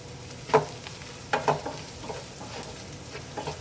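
Turmeric, coriander-cumin powder and salt are stirred into a frying pan for bhindi masala, with a few distinct clinks of a spoon against the pan over a low, faint sizzle.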